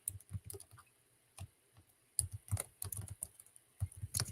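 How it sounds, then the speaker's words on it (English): Rapid, uneven clacking of fingers on a computer keyboard, a close, quiet run of keystrokes in short bursts with brief pauses. "So I'm going to type in"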